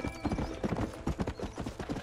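Galloping horse hooves in the video game Red Dead Redemption, a fast, steady clip-clop rhythm of repeated thuds, continuous and fairly prominent, with no speech over it.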